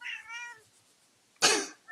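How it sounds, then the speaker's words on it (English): A house cat meows insistently, a drawn-out wavering call followed after a pause by a sharp, breathy noisy burst and the start of another cry, loud and close with no talk. "Let's let your cat have the last word."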